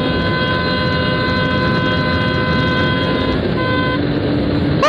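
A Honda Xblade motorcycle engine drones steadily and loudly on a rough road, holding a high, whining tone. Its pitch dips briefly near the end as if shifting gear, with wind rush underneath.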